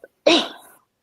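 One sharp, close sneeze bursts out and quickly fades, preceded by a short intake of breath.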